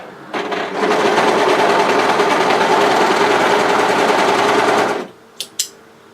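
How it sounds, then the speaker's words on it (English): An overlocker stitches a dress seam in one steady, loud mechanical whirr lasting several seconds, ending abruptly and followed by two short clicks. "match the short edges, right sides together, and overlock that seam"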